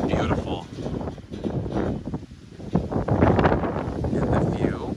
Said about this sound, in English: We know it's windy, you guys